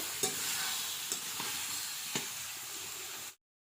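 A vegetable curry without spices, stir-fried in a pot over a wood-fired clay stove, with a faint continuous sizzle and a few light scraping taps of the spoon before the sound cuts off.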